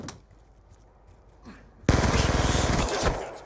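Sustained automatic light machine gun fire in Call of Duty Black Ops 2, a quiet stretch of game ambience, then a loud continuous burst of rapid shots from about two seconds onward.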